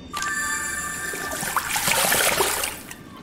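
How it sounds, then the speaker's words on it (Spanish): Water pouring in the puzzle game Morrok, a steady trickling splash that swells in the middle and fades, mostly alone with a faint tonal ringing behind it. "Aquí va el agua."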